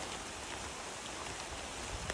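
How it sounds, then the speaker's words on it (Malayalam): Heavy rain falling steadily outdoors during a fishing outing, a dense, even hiss of drops with no voices, constant in level throughout. "നല്ല മഴ ഉണ്ട് കേട്ടോ."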